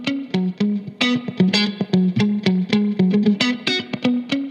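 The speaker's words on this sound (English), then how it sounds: "To demonstrate the spring reverb, I brought the guitar loop back." A plucked guitar loop plays through an Arturia Rev Spring 636 spring reverb plugin, short rhythmic notes and chord stabs ringing out with a metallic, splashy tail, close and steady with no talking.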